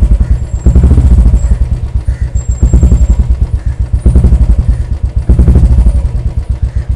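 A Royal Enfield motorcycle with a Swagman silencer thumps loudly up close, its deep, bassy exhaust beat swelling in several throttle blips over a steady idle.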